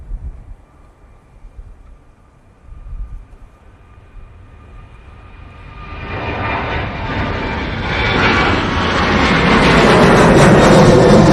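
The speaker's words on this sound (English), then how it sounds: "Here comes the Ryanair. This one's going off to Shannon, using the 737-800 for this." A Ryanair Boeing 737-800 departs Manchester Airport for Shannon, its jet roar swelling from a low distant rumble into a loud, broad, sustained blast of engine noise that keeps building to the end, with no talk.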